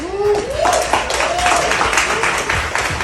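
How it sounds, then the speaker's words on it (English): An audience at a youth event in Jersey City applauds, with sharp clustered claps and cheers under a loud amplified voice. "Give yourself a round of applause."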